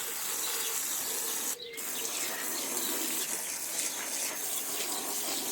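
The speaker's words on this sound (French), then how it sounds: "donc je vais utiliser le tuyau d'arrosage" A garden hose pours water steadily into a dry tank in a vegetable garden, producing a constant close splashing hiss with one brief dip.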